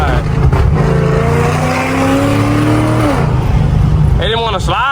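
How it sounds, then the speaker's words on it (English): A car driven fast on a tollway, its engine note dropping and climbing through a couple of quick downshifts, loud and continuous, with a voice talking over it near the end. "y'all heard them crisp downshifts"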